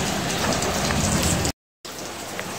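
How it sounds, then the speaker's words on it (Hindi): Heavy rain pours outside in Lahore, Pakistan, a dense, steady hiss of drops that cuts out briefly and then resumes slightly softer. "अब बारिश तेज चल रहा है"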